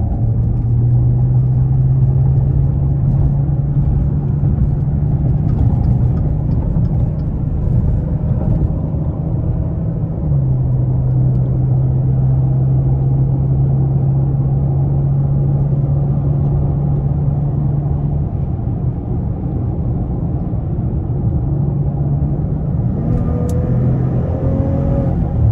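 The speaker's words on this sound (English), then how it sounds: "The back fire you get from the exhaust is just so incredible." 2017 Maserati Ghibli SQ4 in sport mode, a steady deep engine and exhaust drone heard from inside at cruising speed, with a low rumbling hum that shifts pitch once as gears change; no voices.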